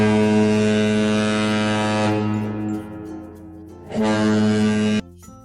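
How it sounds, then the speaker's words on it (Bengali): A ship's deep horn sounds loud and close in two long blasts, the first fading out for about a second before the second blast begins and then stops abruptly. "জাহাজ চলে সাগর জলে।"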